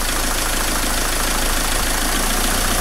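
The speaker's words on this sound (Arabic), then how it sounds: "شفت الموتور حسوا كيف تغير" A Dacia Logan dCi diesel engine with a Delphi injection system, just cleaned, idles steadily and loudly up close, a continuous rough clattering rumble with no voices.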